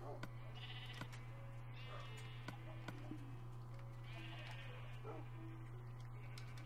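Sheep bleating in Minecraft, a few short game bleats over a steady low hum and faint background sounds, with no talk.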